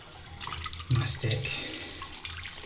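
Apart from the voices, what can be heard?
water running from a basin tap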